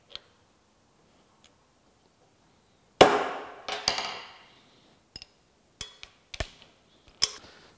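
Metal transfer punch tapped to mark holes for lathe way wipers during a Monarch lathe restoration: a burst of sharp strikes, then a scatter of separate crisp ticks and taps, close and fairly quiet, with no talk.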